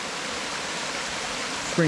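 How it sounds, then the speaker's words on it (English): Steady, gentle rush of water pouring out through a channel cut in a beaver dam in late-winter woods, a continuous close wash of flow with no talking. "I think the beaver created that channel to let some of the water flow out"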